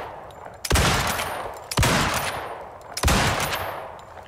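Explosive ammunition firing in the survival video game Icarus: three heavy booming shots spaced about a second apart, each with a loud blast and a long rumbling decay, with no voices.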